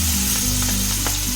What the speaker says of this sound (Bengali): এবার আমি মাছের মাথাগুলোকে ভেজে নেব ভালো করে।